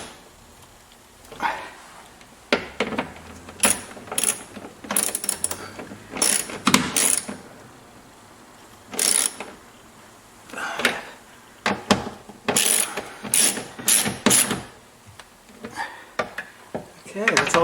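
A ratchet tightens bolts on a C5 Corvette power window regulator, with many quick clicking bursts in irregular runs separated by pauses, close and crisp, alone without talk.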